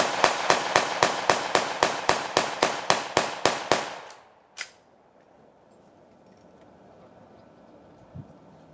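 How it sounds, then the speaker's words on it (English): An M14 rifle fires blanks at a Vietnam War reenactment at a Texas military museum: about a dozen sharp, evenly spaced cracks in quick rhythm, then one louder isolated shot and quiet outdoor ambience. "We're going to let you see what the M14 looks like in operation."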